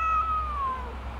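A single cat meows close by, one drawn-out, slightly falling cry over a low steady hum, with no talk during it.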